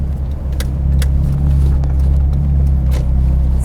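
A Ferrari California convertible with the top down drives along, its engine a steady, loud, close rumble with low road drone and light wind buffeting throughout.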